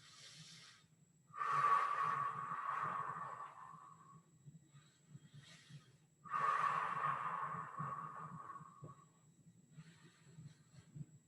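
Deep, slow breaths drawn in and pushed out during a mobility exercise, two long breathy exhalations a few seconds apart, close and fairly quiet over a low background hum.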